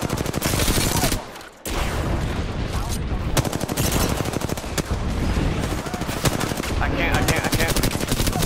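Constant loud Apex Legends gunfire fills the stretch, with rapid automatic bursts and heavy shots layered over in-game explosions and effects. A brief lull comes near the second mark before the shooting resumes.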